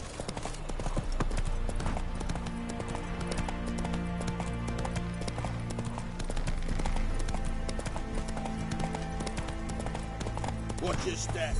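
The hooves of Roach, the horse in The Witcher 3, keep up a steady, rhythmic clip-clop close by for the whole stretch under sustained game music, with a brief snort near the end.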